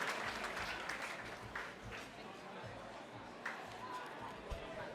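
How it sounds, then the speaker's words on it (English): Sustained audience applause at an award ceremony, a dense wash of clapping with crowd chatter mixed in, steady and fairly distant for the whole stretch. "Big round of applause, ladies and gentlemen."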